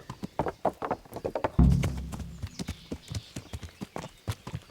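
A horse's hooves clip-clop at a steady walking rhythm on a road in Kingdom Come Deliverance, with a brief low thud partway through and the regular beat continuing close by.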